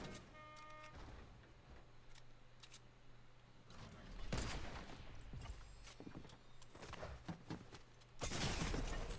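Bursts of light machine gun fire in a shooter game, loud, crackling volleys broken by short gaps, with a final heavy burst at the end.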